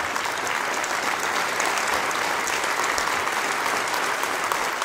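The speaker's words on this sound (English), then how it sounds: "Let's give them a round of applause there for contributions" Audience at a family Christmas lecture clapping for contributors, a short, uniform burst of thick clapping heard from within the hall, steady from start to finish.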